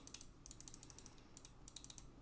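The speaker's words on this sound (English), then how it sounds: "Here's a little sound test of them now of the left click" Crisp left-button clicks of a computer mouse fitted with KLGM 8.0 switches, sharp taps in quick bursts with short pauses, close and quiet with no other sound.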